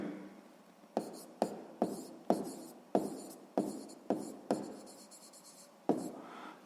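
Pen writing by hand on paper while working a sixth-grade maths exercise, a run of close, scratchy strokes with sharp taps at each new stroke, quiet and unhurried.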